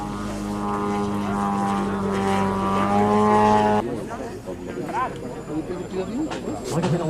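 A model aircraft comes in to land at the La Ferté-Alais air show, its propeller engine droning with a steady pitch before dropping away, while commentators talk continuously over the sound.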